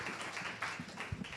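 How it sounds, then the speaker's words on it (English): Audience applause at a tech community meetup, faint and sparse, a few claps heard at a distance. "One more applause."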